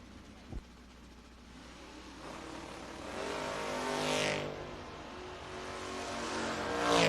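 A 1977 Pontiac Firebird and a 1979 Camaro launching side by side at a drag strip, engines roaring louder and rising steadily as they accelerate away, with a sharp knock near the start and a surging pass midway.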